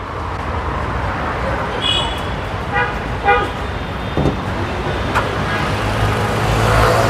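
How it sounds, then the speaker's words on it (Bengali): A used Toyota Harrier's engine idles with a low, steady rumble, while road traffic passes around it and several short car horn toots sound at a distance. "ইঞ্জিনটা কিন্তু স্টার্টে আছে ওকে ইঞ্জিনটা স্টার্ট আছে"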